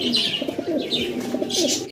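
Pigeons coo in soft, repeated throaty rolls close by, with a few faint chirps mixed in and no talking.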